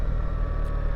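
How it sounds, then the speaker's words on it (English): Motorcycle exhaust and engine noise, captured by a mic in a rider's back pocket, a steady loud low drone with continuous rumble for about a second, no voices. "It's in my back pocket, recording kind of exhaust and engine noise."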